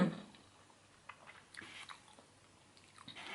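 Thai khanom jeen salad with fresh shrimp and pork sausage being eaten, soft close chewing and a few wet bites in quiet irregular bursts, with no talk.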